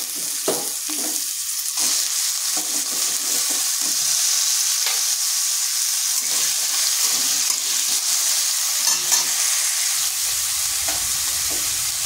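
Small potato pieces frying in oil with turmeric and salt in a kadai hiss and sizzle steadily and loudly, with occasional stirring scrapes and no speech.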